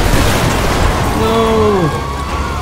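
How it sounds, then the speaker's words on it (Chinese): A car blows up in the video game GTA 5, a loud, dense burst of game noise with rumbling and crackle that lasts throughout, while a voice briefly sounds partway through. "车子都爆炸"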